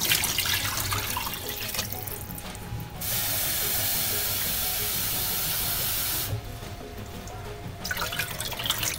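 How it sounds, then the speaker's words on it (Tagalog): Water pours in a steady hissing stream into a cooking pot while preparing pork pochero, running for several seconds between quieter stretches of kitchen noise. "Tubig."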